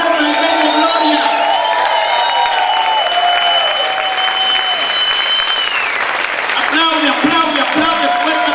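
A church congregation claps loudly and continuously while cheering and whooping for the Lord, with voices shouting and singing over the dense applause throughout.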